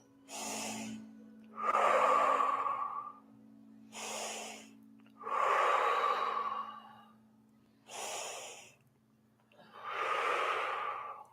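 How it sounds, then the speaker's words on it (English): A person breathing slowly and deeply in a quiet room, taking three full cycles of audible breathing, each a soft airy inhale followed by a louder, longer exhale. "Breathe in through the nose"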